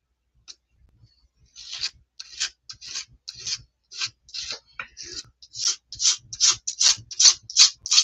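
Paint being stirred in a container, a run of rhythmic scraping, rubbing strokes that start sparse and grow steadier and louder, close up with no talking.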